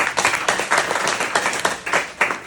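Clapping from a seminar audience at Fish Pond, Bhaderwah, heard as rhythmic bursts of hand claps in a steady repeating pulse, moderately loud in a room with no clear talk.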